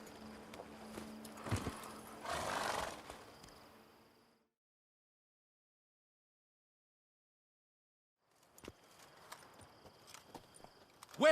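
Horse hooves clip-clop in The Witcher 3 video game, a few seconds of walking steps with soft rustle, then silence, then sparser hoof knocks returning, fairly faint and without speech.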